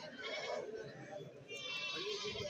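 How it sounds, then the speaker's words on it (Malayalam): Several goats and kids bleat close by in wavering cries at a weekly goat market in Kerala, overlapping with people talking in the background. "ഇവിടെയും കുറച്ച് ആടുകൾ ഇതായി ഭാഗത്ത് നിൽപ്പുണ്ട്"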